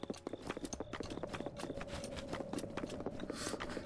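Rapid clip-clopping hooves trot steadily and close in The Legend of Zelda: Breath of the Wild, with a continuous game-like ambience humming underneath.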